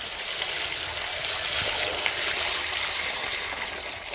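Water pours steadily and evenly to rinse fresh bat fish being cleaned for a Goan fish curry and fish fry, a continuous close splashing hiss with no break and no voices.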